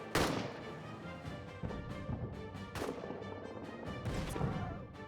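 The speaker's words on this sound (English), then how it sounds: "looks like we had a good artillery hit" Artillery shells slamming into trenches in the game All Quiet in the Trenches, a string of loud booming blasts with sharp impacts over a steady rumble of battle noise, several hits spread across a few seconds.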